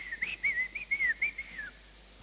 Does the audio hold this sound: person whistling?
yes